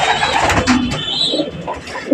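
A racer homer pigeon coos close by, soft throaty repeated calls over a faint background hum.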